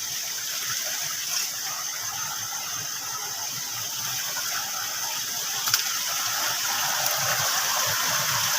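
Water flows steadily at an underground waterfall, a dense continuous gushing rush with faint clicks and squeaks over it and no voices.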